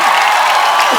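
Studio audience at a comedy talk show breaking into loud, dense applause and crowd noise to welcome arriving celebrity guests, a full, continuous wash of clapping.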